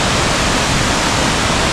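Ingleton waterfall carrying a good head of water, a dense, loud, unbroken roar of falling water heard close up with nothing else over it.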